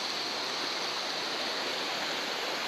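Water running into the carved bathtub pool at Slips Canyon, a constant close hiss of flowing, splashing water with no pauses and no voices.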